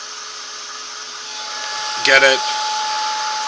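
A heat tool blows a steady stream of hot air over marker coloring, a constant whooshing hiss running throughout with a brief louder burst near the end while a person speaks over it.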